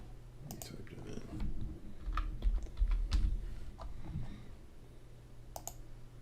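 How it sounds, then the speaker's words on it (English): Close keyboard clicks on a computer keyboard, a quick irregular run of keystrokes with a few louder taps, alone without talk. "Let me type that"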